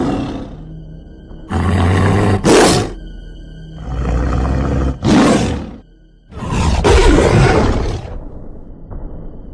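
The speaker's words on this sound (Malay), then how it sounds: "tiba-tiba entah dari mana satu ngauman yang sangat-sangat kuat bergema dalam hutan" A white tiger roars in a forest, delivered as a string of loud, deep, rumbling roars in several long bursts with brief gaps between them, close and dominant with no voices.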